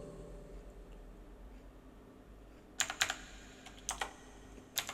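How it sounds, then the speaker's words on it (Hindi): Keys tapped on a computer keyboard enter an authenticator code during a graphics driver setup on Windows, a few quick clusters of crisp clicks arriving in the last two seconds over a faint background hum, with no talking. "तो मैं यहाँ पे टाइप करूँगा इसको।"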